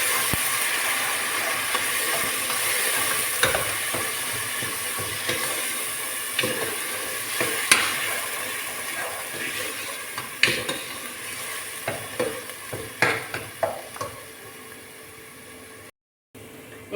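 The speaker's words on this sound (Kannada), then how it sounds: "ಅದಕ್ಕೆ ಈಗ ಇದನ್ನು ಹಸಿ ಸ್ಮೆಲ್ ಹೋಗುವ ತನಕ ಒಳ್ಳೇದು ಮಾಡಿ ಫ್ರೈ ಮಾಡಬೇಕು. ಲೋ ಫ್ಲೇಮಲ್ಲಿ ಇಟ್ಟು ಫ್ರೈ ಮಾಡಿ." Ground onion paste frying in oil over a low flame while being stirred in a pan, making a steady close sizzle with repeated scraping stirs that grow sharper toward the end.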